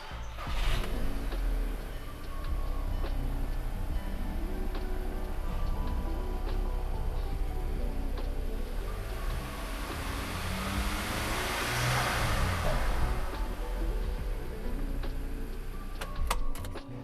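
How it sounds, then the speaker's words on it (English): A 2005 Volkswagen GLI engine fires up and settles into a steady idle, with a broad noisy rumble running at a constant level throughout and no voices over it. "So we're gonna start the car up."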